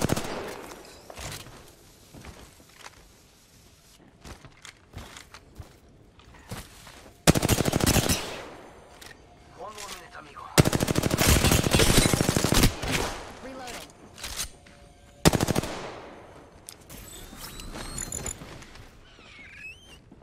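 Sniper rifle gunfire in the battle royale game Apex Legends, loud sharp shots and bursts booming out in several clusters over a twenty-second stretch of action, with scattered game effects filling the gaps and a voice speaking at times.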